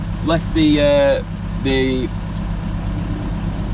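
A DAF LF truck engine idles steadily during an exhaust regeneration, a low continuous rumble running under a nearby voice talking.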